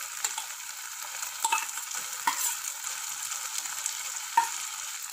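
Fried eggs being stirred into fried rice with vegetables in a hot pan, a steady soft sizzle with occasional light scrapes and taps of the spatula, quiet and close, no speech.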